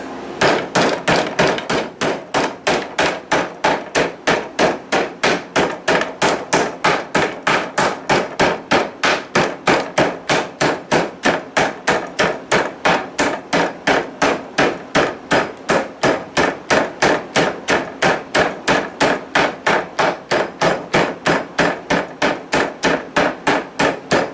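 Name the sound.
meat hammer pounding chicken breast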